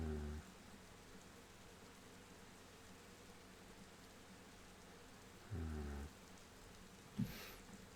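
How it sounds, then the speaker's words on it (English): Steady heavy rain hisses continuously at low level, with brief louder tonal bursts interrupting near the start and middle and a sharp knock near the end. "The rain is really strong."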